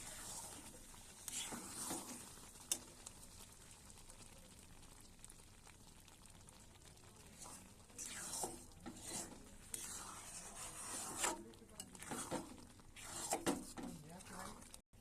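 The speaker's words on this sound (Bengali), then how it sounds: "এই যে কারি পাতা দিয়ে দিচ্ছি একটু। একটু নাড়িয়ে চাড়িয়ে দিচ্ছি।" Curry leaves sizzle in hot oil for a tadka while being stirred, with a steady crackling hiss and scraping stirs swelling at intervals under a voice talking.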